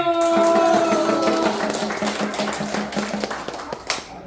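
Elderly audience members clapping at a Korean comedy and vocal-mimicry stage show, a steady rhythmic patter of hands that fades slightly over a few seconds amid room noise.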